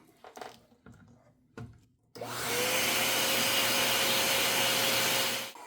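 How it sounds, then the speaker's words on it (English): A household vacuum cleaner with a threadbare piece of old t-shirt over the nozzle switches on after a few faint handling knocks, then runs as a loud, steady whine for about three seconds before cutting off, lifting static grass on a model railway layout. "I'm going to take my vacuum, and this will get, and for my vacuum I have a piece of old t-shirt over the end"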